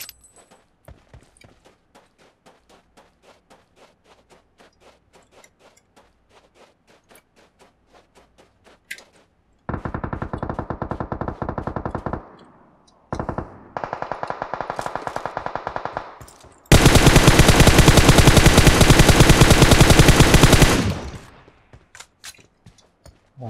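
PUBG Mobile gunfire on the Miramar map: quiet scattered ticks first, then three loud sustained bursts of rapid automatic fire, the last and heaviest lasting several seconds before cutting off.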